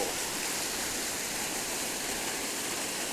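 Water rushing steadily over a waterfall in a stream swollen with extra water, a dense, continuous broadband roar heard close and loud, with no voices.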